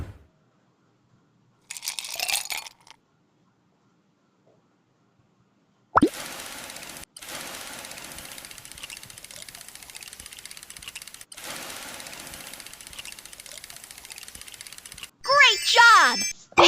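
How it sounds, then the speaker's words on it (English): Ice cubes poured into an ice crusher in a Babybus children's cooking game, heard as plopping and crunching bursts mixed with bright game chimes and effects. "Pour the ice cubes into the ice crusher."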